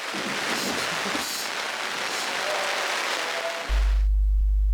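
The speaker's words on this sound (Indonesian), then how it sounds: "saya pun jalan-jalan sebentar di bawah guyuran air hujan" Heavy rain pouring down on an evening walk in the Dieng Plateau highlands, a dense, steady hiss close by that cuts off abruptly near the end into a low rumble.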